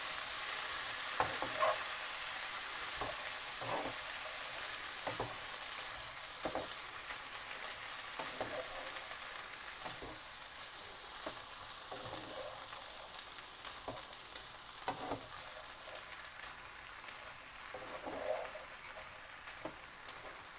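Black chickpeas and vegetables being stirred and stir-fried in a pan, with a steady sizzle under repeated spoon scrapes and knocks at an irregular rhythm, close up and with no voices.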